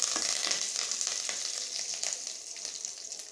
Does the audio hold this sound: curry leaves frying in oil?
yes